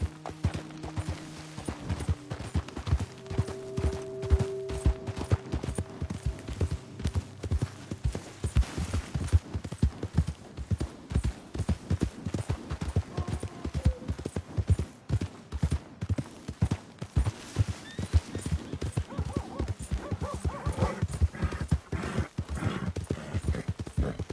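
A horse in the video game Red Dead Redemption 2 gallops with rapid, rhythmic hoof clip-clops that run steadily for the whole stretch, close and prominent, with a few brief tonal game sounds early on.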